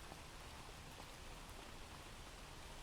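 Rain falls steadily outside on a dark evening, a faint, even hiss of drops with no breaks or changes in strength.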